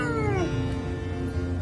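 A small kitten stuck in a drain hole gives one drawn-out, falling meow, then weaker mewing cries, all close by against a low background rumble.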